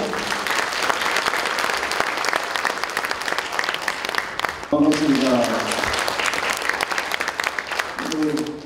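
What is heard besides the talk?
audience applause welcoming the governor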